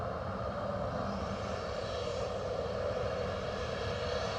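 A Ryanair airliner's engines roar steadily from the airfield at Edinburgh Airport, a continuous broad drone lasting the whole stretch with no voices over it.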